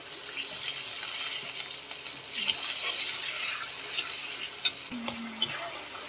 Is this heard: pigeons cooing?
no